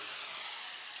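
Mushrooms sautéing in a pan inside a van kitchen give a faint, steady sizzle for a brief moment, alone.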